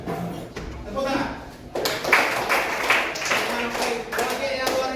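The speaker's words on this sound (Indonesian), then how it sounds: "Tepuk tangan." A group of people clapping their hands at a school, a burst of scattered claps of moderate loudness mixed with voices.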